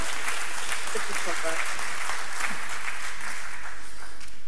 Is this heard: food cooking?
no